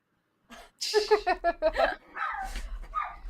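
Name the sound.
neighbor's dogs barking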